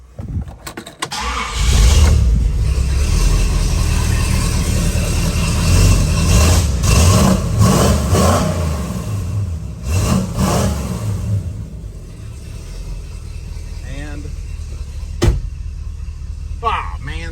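Car engine revving through an upgraded chambered muffler exhaust, a deep steady growl that swells in repeated throttle blips, close and loud but not harsh, with a person talking briefly at the start.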